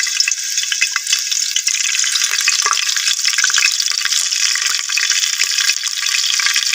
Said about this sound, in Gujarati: તો હવે તેલ આવી ગયું એવું લાગે છે તો આપણે પહેલાં એમાં નાખીએ મરચા લીલા